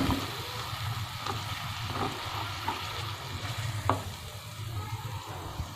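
Onions fry in a pan with a soft, continuous sizzle. A few light stirring clicks come through, fairly quiet and with no voices.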